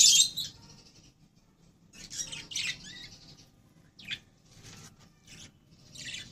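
Rose-colored budgerigar chick, a kind of Australian parakeet, giving several short high chirps and squawks in scattered bursts over a low background rumble, fairly faint and close.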